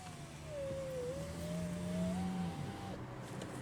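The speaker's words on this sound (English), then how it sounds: "the gas engine kicked on again just as I opened the door" The gas engine of a 2017 Nissan Rogue SL Hybrid kicks on, a faint low hum with a thin whine that steadily rises and holds, quiet and nearby, with no talking.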